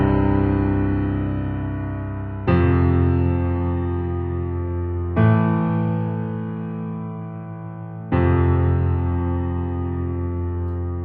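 Four sustained piano chords, the left hand playing a progression in octaves, each struck firmly and left to ring and decay for a couple of seconds before the next, alone and fairly loud.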